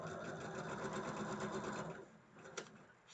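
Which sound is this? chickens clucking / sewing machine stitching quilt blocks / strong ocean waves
sewing machine stitching quilt blocks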